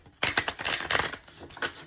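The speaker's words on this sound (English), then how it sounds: "I'm gonna shuffle." A deck of tarot cards is shuffled by hand: a quick, close run of papery riffling and flicking that fades toward the end.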